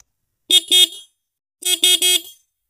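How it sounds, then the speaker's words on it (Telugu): A 2024 Yamaha MT-15 motorcycle horn sounds loud and close: two quick honks, a short pause, then three more quick honks, with no talking. "హార్న్ యొక్క లౌడ్నెస్ అనేది ఒకసారి చెక్ చేద్దాం"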